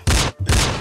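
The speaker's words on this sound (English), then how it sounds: "let me get some gunshots because I'm going to shoot at the club" A gunshot sound effect fires as two loud, heavy bursts separated by a brief gap, close and booming, with no voices over them.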